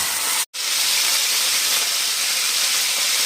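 Ginger garlic paste hits hot oil in a pan for a Rui fish korma, letting out a loud, close, sustained hiss that cuts out for a moment before continuing steadily.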